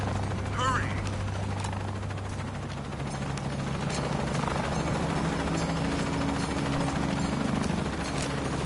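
A helicopter in the video game Shadow of the Tomb Raider roars with a loud steady rotor drone, heard with game effects and voices in the mix.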